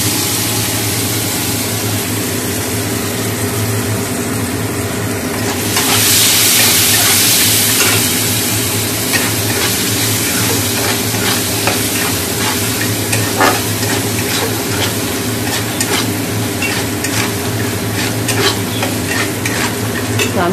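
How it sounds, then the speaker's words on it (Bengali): Salted peanuts frying in white cooking oil in a village kitchen, a steady dense sizzle that swells louder partway through, with frequent scraping stirs and a low engine-like hum underneath; no one speaks. "তো চাউমিনটা করবো তার আগে এই সাদা তেলে এই বাদামগুলো ভেজে নেবো"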